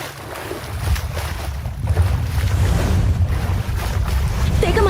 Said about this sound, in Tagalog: Pudyat ito ng paparating na alon at maririnig din yon sa paligid.